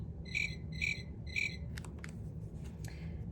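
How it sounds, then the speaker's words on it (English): A cricket gives three evenly spaced, bright chirps near the start, clear above a steady low rumble of outdoor background noise, followed by a few faint clicks. "The cricket hops and chirps."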